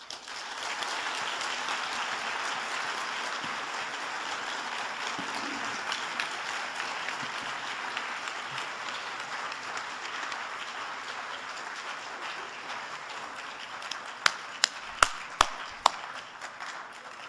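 An audience at a talk on affirmative action breaks into applause after a speech, a sustained, fairly distant wash of clapping that holds steady, with a few sharp isolated claps standing out near the end.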